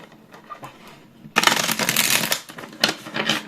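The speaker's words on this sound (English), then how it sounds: "I'm going to shuffle this deck so we can get your answer" A tarot card deck is shuffled by hand in a burst of dense papery riffling and slapping, starting faintly, then loud and close for about two seconds, with a brief pause and a final flurry.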